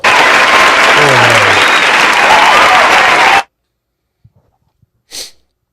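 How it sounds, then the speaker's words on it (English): Applause fills a podcast studio for about three and a half seconds, a dense steady burst of clapping that cuts off sharply into near silence, followed by a short sniff or sneeze. "let me get some applause for that one."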